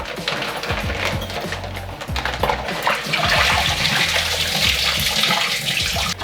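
Water pours and splashes into a Scrubba wash bag holding clothes for rinsing, a loud, close, continuous gushing with gurgling low bubbles that grows fuller midway.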